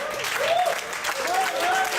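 Brief applause from an audience at a Toastmasters public speaking meeting, a steady patter of clapping hands with voices mixed in.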